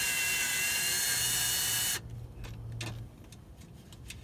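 A Phillips screwdriver or power driver working bolts loose while a starter is being installed on an Infiniti G35: a loud, steady high whine for two seconds that cuts off, followed by quieter scattered clicks and scrapes.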